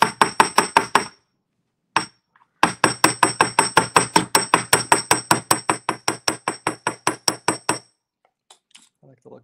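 Hammer striking jewellery wire on a hard block to flatten it, a run of about thirty sharp, evenly spaced metallic taps close by, broken by a short pause and then a long steady series before stopping.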